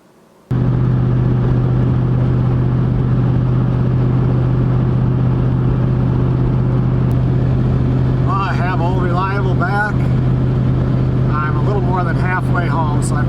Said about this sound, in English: Halfway home, so I've been driving about an hour and 10 minutes, and it has a miss in it when I put any load on there